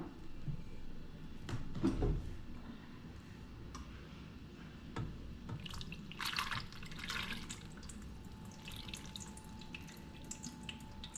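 Homemade grape wine trickles through a strainer in soft, faint splashes and scattered drips, quiet and close.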